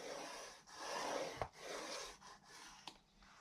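Paper is scored on a scoring board for a craft bag, heard as quiet, close scraping strokes, a few drawn-out rubs broken by small sharp taps, with no one speaking.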